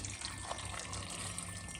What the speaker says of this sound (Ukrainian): наливаю окріп